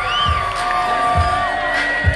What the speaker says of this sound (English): Give the ladies a round of applause, please.